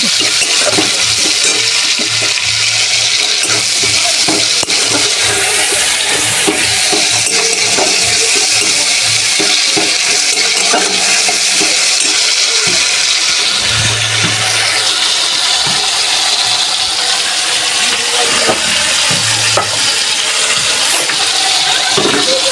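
A spiced mixture with salt stir-fried in a pan for a Bengali dhoka dish, with steady loud sizzling and frequent scraping and clinking of the spatula throughout, with no voices.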